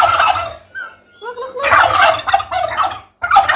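A bronze turkey at a farm in Banda Aceh lets out loud, close, warbling gobbles in several rapid bursts separated by short gaps.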